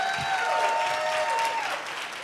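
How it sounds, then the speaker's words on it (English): Studio audience at a dating game show breaks into applause, a warm, loud wash of clapping with some tonal voices running through it, fading slightly near the end. "applaud his courage"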